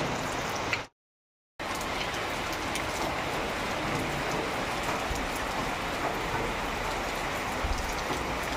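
Steady outdoor rain makes a dense, even patter across the whole stretch, interrupted by a short total dropout near the start, with no voices.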